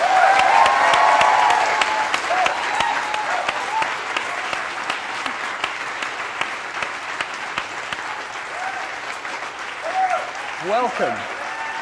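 A studio audience applauds and cheers a guest, Emma Watson, at an International Women's Day conversation. The clapping starts loud and dense, then slowly thins, while a voice speaks briefly over it.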